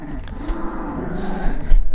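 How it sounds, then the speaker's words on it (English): Several pit bull puppies growl low and continuously up close, a rumbling, feisty chorus with small snuffles and faint bumps, no voices over it. "You hear them growling?"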